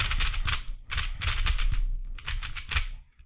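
A MoYu HuaLong speed cube being turned fast, giving loud, dense bursts of sharp plastic clicking in four quick runs with brief pauses between them, close up and with no voices.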